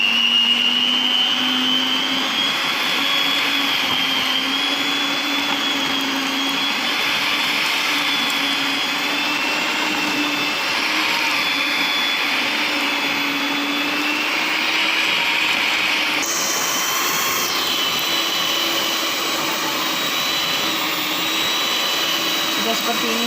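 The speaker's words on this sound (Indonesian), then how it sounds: "ini langsung saja kita mixer dengan kecepatan rendah dulu, kemudian nanti akan kita naikkan secara bertahap ya." An electric mixer beats cake batter for pineapple layer cake at low speed, giving a loud, steady motor whine that runs close and unbroken throughout, with a slight shift in tone partway through.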